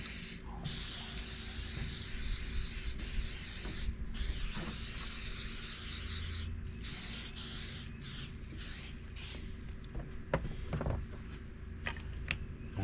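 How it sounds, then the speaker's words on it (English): Repeated hissing bursts from a canola oil spray can coating a wild turkey, coming in short and longer pulses, with small clicks and handling noises between them. "we're just going to spray the whole thing down with some canola oil"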